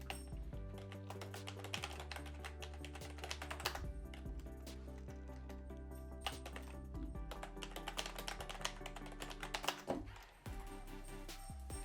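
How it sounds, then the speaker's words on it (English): Password being typed on a computer keyboard during software installation on macOS, a close, steady run of quick key taps over a low background hum with brief pauses. "So I'll type in my password now."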